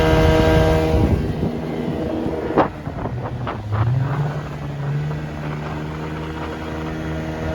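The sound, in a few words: 1973 Evinrude 25 hp outboard motor on a raft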